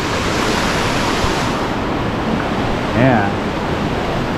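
Fast-flowing water at Tahquamenon Lower Falls rushes in a constant, loud broadband roar, with a brief voice speaking over it near the end.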